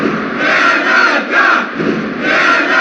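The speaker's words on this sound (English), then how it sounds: "Listen to this capacity crowd." A capacity arena crowd at a WWF War Zone wrestling match roars loudly and continuously, surging in waves of cheering and shouting that fill the whole stretch, with no commentary over it.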